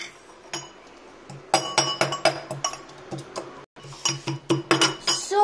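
Whole spices pounded coarsely in a mortar for a tomato gravy, giving a run of sharp metallic clinks and knocks in an uneven rhythm. The strikes are close and fairly loud, with a short pause partway through and no one talking.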